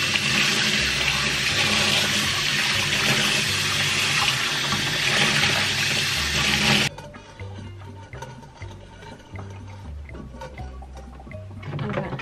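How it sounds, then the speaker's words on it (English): Tap water runs hard and loud as developed film is rinsed, a dense steady rush that cuts off abruptly partway through, leaving quiet handling sounds and faint clatter behind. "I need to put it under running water."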